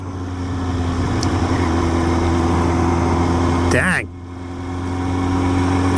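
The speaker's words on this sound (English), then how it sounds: "we've got a tractor with a pull behind mowing deck" A tractor pulling a mowing deck along a back road, heard as a steady engine drone from inside a passing car, with a brief swoosh as it goes by and a few words spoken.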